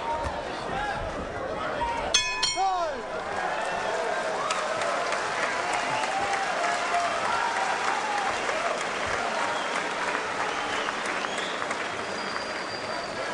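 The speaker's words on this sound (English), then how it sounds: "Crowd getting into it big as we close out round 4." A boxing arena crowd at the close of round 4 roars and applauds in a dense, sustained wash of cheering, with a whistle early on and a commentator talking over it.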